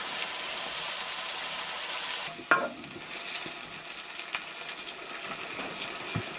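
Tomatoes with salt cooking in a pan for a fish curry, a steady, close hissing sizzle with one sharp clink of a utensil partway through and a few light stirring scrapes.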